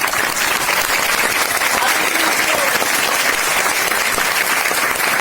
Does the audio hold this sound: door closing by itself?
no